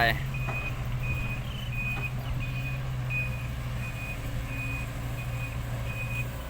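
A truck reverses at a construction pit, its backup alarm beeping in a steady repeating rhythm over a low diesel engine rumble, with someone talking throughout.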